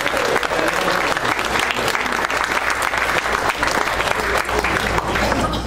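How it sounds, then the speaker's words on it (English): Sustained, loud audience applause fills a rocketry convention awards ceremony, a dense steady wash of many hands clapping with no break for the full length. "round of applause for Dave"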